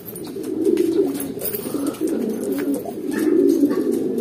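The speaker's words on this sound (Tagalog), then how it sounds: "Ayan mga kalapatids, may nagdadaanan na dito galing north" Racing pigeons at a loft coo in a steady low murmur throughout, with faint chirps and scattered small clicks over outdoor background noise.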